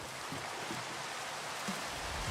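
Steady rain falls in the Minecraft video game, a soft, even hiss with occasional faint drops, alone and without talk.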